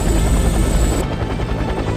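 A cartoon cat-shaped helicopter roars close and loud with a continuous rotor whir and engine drone, steady throughout the short stretch.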